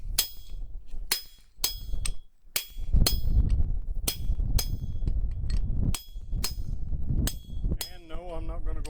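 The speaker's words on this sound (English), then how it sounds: "Angling my chisel back at me so that it cuts it fairly square." A hammer striking a chisel on an anvil to cut through forged metal, a series of about a dozen sharp ringing clanks in uneven rhythm, with someone talking between the blows.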